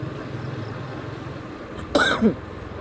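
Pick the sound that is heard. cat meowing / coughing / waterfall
coughing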